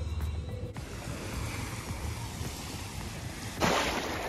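Ocean waves wash steadily at a beach in the Bahamas, a loud continuous broadband surf roar close by with buffeting wind on the microphone and a brief louder surge near the end.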